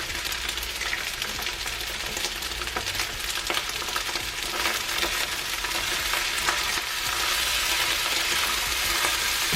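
Fried rice with cashews sizzling hard in a hot pan, a loud continuous hiss with scraping stirring strokes from a spatula, heard up close with no talking.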